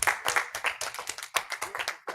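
Bidders at a live music memorabilia and concert poster auction clap after a lot sells, a short run of distinct, fairly close claps in an uneven rhythm from a small group.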